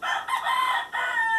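Rooster crowing loudly alongside chickens, a sustained cock-a-doodle-doo with a brief break midway, close and clear with no talk.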